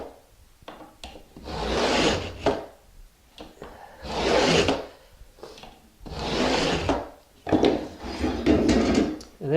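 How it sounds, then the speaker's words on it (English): A utility knife scoring quarter-inch Hardie backer board along a straight edge, four long rasping scrapes in a steady back-and-forth rhythm, close and fairly loud with short pauses between strokes. "you place your straight edge or your drywall square down, and you just make your score."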